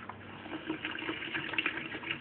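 Reverse osmosis water pours steadily into a container, a soft continuous splashing trickle heard close up with no voices.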